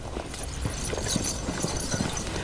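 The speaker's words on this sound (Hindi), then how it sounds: "कुछ घोड़े सवार इस तरफ आ रहे हैं।" Several horses with riders approach, their hooves clip-clopping in a steady, busy rhythm at moderate distance over a dull background murmur.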